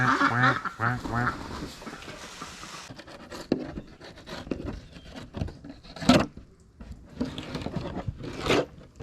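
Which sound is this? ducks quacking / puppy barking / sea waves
ducks quacking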